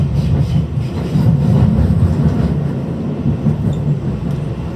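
Rumble of a Western Line passenger train heard from inside a carriage as it runs along the rails near Parnell, a steady loud low roar with rattling and no talk.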